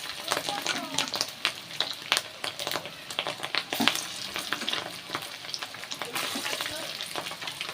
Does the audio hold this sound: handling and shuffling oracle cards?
no